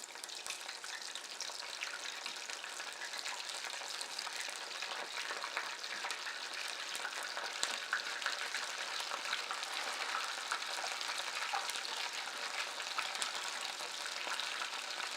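Steady hiss and fine crackle of food frying in hot oil that was already used for egg rolls, continuous and fairly close with no talking.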